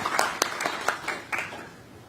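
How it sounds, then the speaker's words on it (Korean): A small group at a formal government event gives scattered, light clapping: a handful of separate claps at close range, fading out after about two seconds. "특별한 박수를 한번 드려야 될 것 같습니다"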